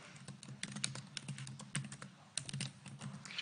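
Rapid typing on a computer keyboard, a steady run of light close key clicks with small pauses between bursts, soft and alone.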